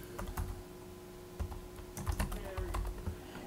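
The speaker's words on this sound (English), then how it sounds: "type in the author's name there" Fingers type on a computer keyboard in irregular bursts of light key clicks, close and fairly clear over a steady background hum, while entering an author's name into a document field.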